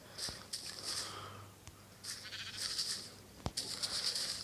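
Sheep in Minecraft bleat several times in short bursts, close and fairly clear, with brief pauses between the calls and a few soft clicks.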